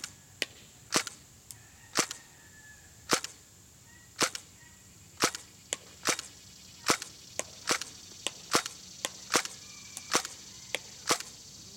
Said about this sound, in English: Same thing, shoot on semi first,